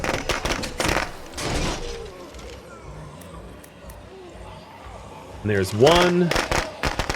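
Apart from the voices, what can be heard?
firecrackers exploding in video game State of Decay 2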